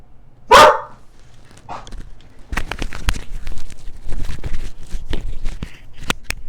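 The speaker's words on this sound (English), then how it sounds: "I just got a dog and he doesn't know any of the neighbors, so he thinks everyone's an enemy." A newly adopted dog barks at the neighbors with one sharp, loud bark, then a quieter yelp, followed by a scatter of rapid barks and clattering movement close by.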